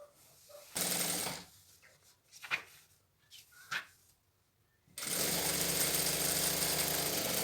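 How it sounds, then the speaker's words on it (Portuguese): A sewing machine runs in two loud, steady bursts as it stitches a straight seam on pillowcase fabric. There are quieter pauses with handling clicks between the bursts. "A gente vai fazer uma costura de um pé de máquina."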